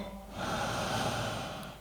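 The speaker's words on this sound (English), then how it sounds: "Listening to the own sound of your own breath." Slow, steady breath during a yoga downward facing dog pose, a soft airy inhale or exhale swelling and fading over about two seconds, close and quiet with no talking.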